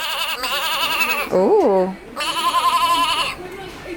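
A goat bleat from a children's farm animal sound book rings out once, a wavering, loud electronic bleat, with a voice and adult chatter just before and after.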